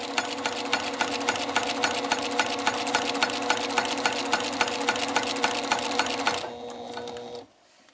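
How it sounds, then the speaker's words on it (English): A sewing machine stitches quilt binding in a fast, steady mechanical whir with rhythmic needle ticks, loud and close, running alone before slowing and stopping near the end. "I'm going to stitch"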